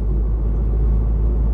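Honda Integra Type R VTEC engine cruising smoothly at 2,000 rpm in fifth to sixth gear, a steady, even low rumble with road noise that holds constant throughout, no voices.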